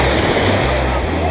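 Caribbean Sea surf rolls onto Negril's 7-mile beach in a loud, continuous wash, with heavy wind buffeting the microphone and no break in the roar.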